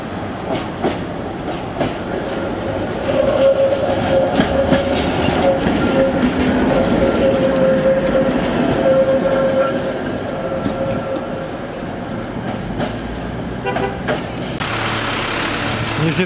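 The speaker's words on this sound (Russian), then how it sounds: "Но зато в Нижнем Тагиле ходит трамвай." A tram in Nizhny Tagil, Russia rumbles past on its rails, clattering steadily with a high wheel squeal, loud and near for the whole stretch.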